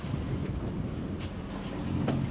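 Steady, loud wind buffeting the microphone in a continuous rumbling roar on a boat at a sand bar, with faint water sounds underneath and no voices.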